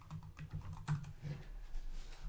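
Quiet, quick typing on a computer keyboard, a rapid run of soft key clicks at close range with no talk.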